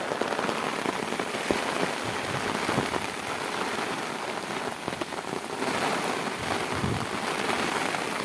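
Heavy rain pours down steadily in a village setting, a dense, close hiss of drops hitting surfaces with no voices.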